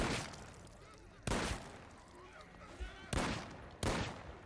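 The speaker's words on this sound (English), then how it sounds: "Alright, I gotta start shooting." Gunfire from the zombie game No More Room in Hell 2 rings out as four sharp, loud shots spaced unevenly across a few seconds, with a faint voice talking between them.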